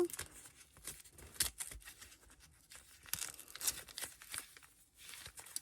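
A thin, taped paper envelope being torn open by hand, with repeated crisp ripping and crinkling bursts in irregular pulses, close and fairly quiet.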